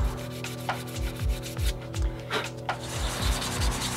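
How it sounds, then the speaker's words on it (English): A van surface being rubbed down by hand after degreasing, a steady rhythmic scraping with back-and-forth strokes about every half second, close and alone over a low background hum. "And then I rub down the surface."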